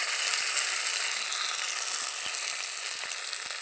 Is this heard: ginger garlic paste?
yes